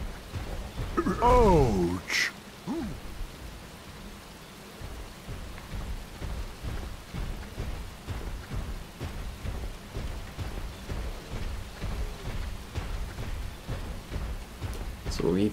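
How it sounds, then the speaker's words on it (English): Steady rain with rumbling thunder in the video game Majin and the Forsaken Kingdom, in the Malawa Research Wing area, a continuous downpour hiss after a brief burst of sound effects and a short shout at the start. "Oh, it's raining again."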